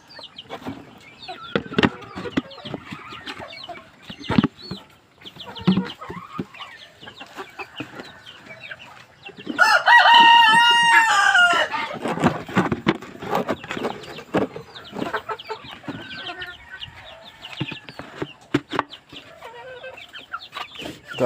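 Pet chicks and backyard chickens under treatment for fowl pox cluck and peep in scattered bursts, with a louder flurry of agitated calls around the middle and quieter pecking sounds throughout.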